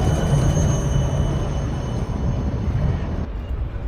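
Train passing nearby in Amsterdam, a loud rumbling roar with a high metallic ring that drops away sharply near the end.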